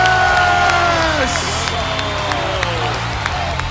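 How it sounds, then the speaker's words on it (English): A large crowd of about 5,000 at a sports festival rises in a standing ovation, a loud, sustained wash of cheering and applause with whoops, continuing steadily with voices mixed in. "And he got a standing ovation."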